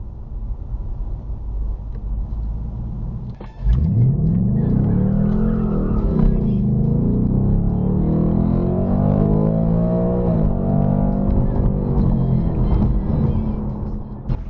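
A 2025 Ford Mustang GT driving through a residential community, heard from inside as a steady engine drone with a rising pull after a few seconds and a continuous road rumble.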